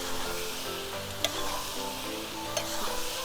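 Pork ribs frying in a kazan with diluted tomato paste, producing a loud, continuous sizzle with stirring scrapes and two brief metallic knocks of the utensil; no talking.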